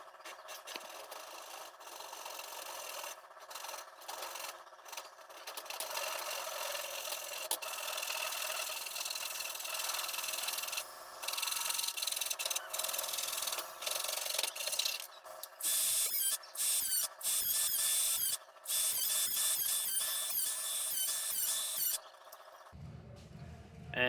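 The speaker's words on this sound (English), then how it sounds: "I'm going to build this with a handsaw." A brand-new Irwin handsaw cutting wood for a bannister, a steady rasping back-and-forth of strokes close by, broken by short pauses and growing louder and brighter in the second half.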